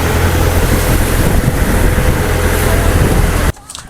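Strong sea waves crash and rush around a boat during island hopping off Boracay, a loud continuous roar with wind buffeting the microphone, then cutting off abruptly near the end.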